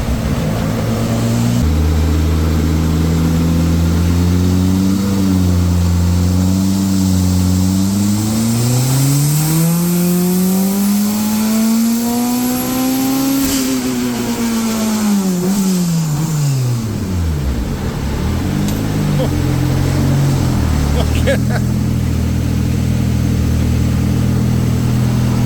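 The engine of a dirty front-wheel-drive car that is leaking coolant revs loudly and close by. The pitch climbs in a long sweep, then drops back to a steady rumble, and stays continuous with no talking.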